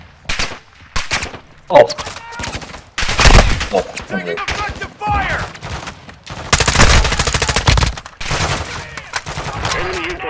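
Bursts of automatic gunfire in a Call of Duty Warzone DMZ match, loud and close, come in repeated volleys with short gaps between them, and a brief exclamation is heard among them.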